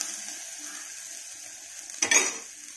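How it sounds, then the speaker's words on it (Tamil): Onion with ginger garlic paste sautéing in a pan, a steady low sizzle alone, with a brief louder scrape of a spatula against the pan near the end. "சோ பச்சை வாசனை போற வரைக்கும் அத நாம நல்லா வதக்கிக்கலாம்."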